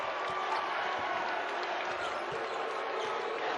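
Basketball arena crowd booing during a college game between Utah State and New Mexico, a dense, steady roar of many voices filling the hall throughout, with faint ball bounces underneath.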